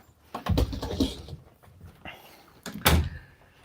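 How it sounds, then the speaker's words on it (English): A home door is pushed shut, giving a couple of soft thuds and a clunk close to the microphone, with some rustling in between. "Let's see if I can shut the door"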